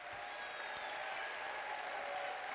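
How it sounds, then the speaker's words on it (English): A church congregation at St. Luke Community United Methodist Church claps in steady, sustained applause, a dense even patter from a full room with no break. "give St. Luke Church a great big round of applause"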